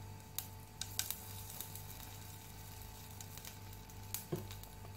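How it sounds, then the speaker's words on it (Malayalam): Cumin seeds splutter in hot oil for a dal fry, a soft steady sizzle with a few sharp pops scattered through, close up with no voices. "ജീരകം ഒന്ന് പൊട്ടട്ടെ"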